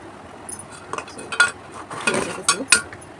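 Knife cutting raw sour mango into small pieces for a fish curry, a series of sharp clicks and taps on a board, irregular and close, with a few brighter clinks.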